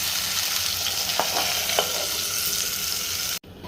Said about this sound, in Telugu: ఇప్పుడు టమాటా ముక్కలు వేయాలి. ఒకసారి బాగా కలుపుకొని మూత పెట్టి టమాటా ముక్కలు బాగా మగ్గనివ్వాలి